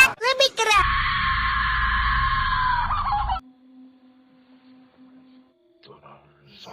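A woman's high scream rings out loudly for about two and a half seconds over a low rumble in a horror film, then cuts off to near silence with faint sounds.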